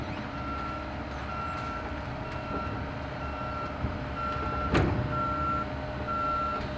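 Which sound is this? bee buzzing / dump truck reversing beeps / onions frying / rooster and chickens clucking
dump truck reversing beeps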